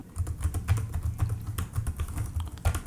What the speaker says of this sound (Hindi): अब मैं यहाँ इसी कीबोर्ड से आपको टाइप करके दिखाता हूँ।